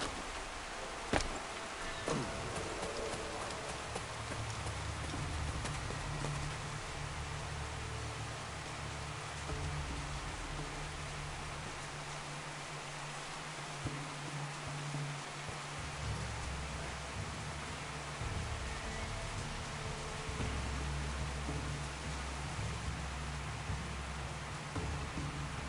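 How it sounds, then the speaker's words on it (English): Steady rain falls continuously in the video game Assassin's Creed IV: Black Flag, a dense hiss with a soft low rumble beneath it and no voices. "And of course, starts to rain."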